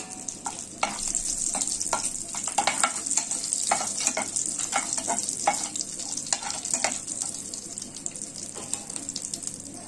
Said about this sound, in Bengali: এবার এই মাছ ভাজার তেলে আমি একটু কালো জিরে ফোড়ন দিচ্ছি আর 2টো চিড়ে রাখা কাঁচা লঙ্কা।